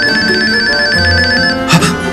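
A telephone rings indoors with a steady electronic ringing tone, loud and close, followed by a brief clatter at the end.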